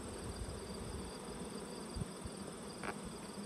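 Honeybees buzz in an opened hive, a faint steady drone of many wings close by, with a few small knocks and rustles.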